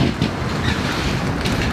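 Strong outdoor wind blows on a cold, windy day, a dense and constant roar pressing on the microphone throughout with no letup.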